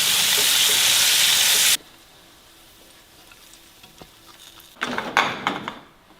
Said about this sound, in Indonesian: Ada terasi 3 ya, kita goreng juga.